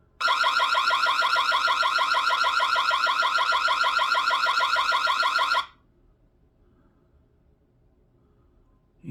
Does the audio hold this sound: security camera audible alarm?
yes